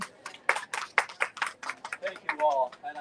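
Scattered hand claps from a book festival audience welcoming an author, sharp and irregular, with a voice talking over them.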